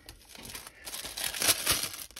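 Plastic bags holding diamond painting kits crinkle and rustle as they are handled, a close, busy crackling that swells toward the end.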